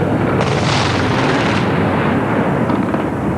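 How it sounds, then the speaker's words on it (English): Heavy bombardment during the Iraq War's Shock and Awe assault on Baghdad: a continuous roar of distant missile explosions and booming blasts, with a louder swell early on, rumbling without pause and no talk. "There's occasional missiles, explosions coming down, large explosions."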